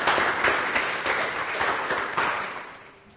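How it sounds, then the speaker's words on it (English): Applause for a student named Rama in a school classroom or meeting, a modest round of clapping that holds steady, then fades toward the end. "She deserves a good round of applause."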